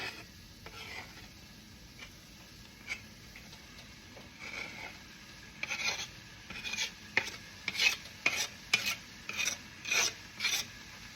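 Tofu stirred in a hot pan for a vegan scramble gives a soft sizzle under repeated scraping strokes, scattered at first and then falling into a steady rhythm of short, close rasps.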